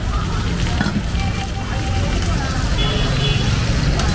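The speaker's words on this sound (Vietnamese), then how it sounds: "cái ga lớn nha các bạn, cho nên là bánh xèo nó xèo xèo nha" Bánh xèo pancakes sizzle and fry over a strong gas flame, giving a steady, loud crackling hiss throughout with faint background noise and voices.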